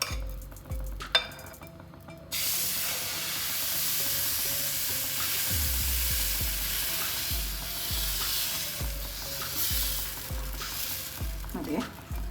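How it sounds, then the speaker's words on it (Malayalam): Wheat ada batter poured and cooking on a hot pan, a continuous sizzle with repeated scraping and stirring knocks, fairly quiet and close, with clinks near the start. "നമുക്ക് മാവ് ഒഴിച്ചു കൊടുക്കാം."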